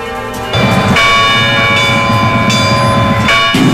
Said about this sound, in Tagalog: Pinangunahan ng Manila Cathedral ang pagpapatunog sa mga kampana ng simbahan sa buong bansa, hudyat ng pagdating kanina ni Pope Francis